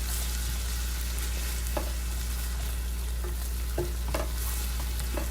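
Philly cheesesteak meat and spices are stirred in a hot pan, a steady close sizzle with repeated scraping and knocking strokes of the utensil, under a constant low hum and without talk.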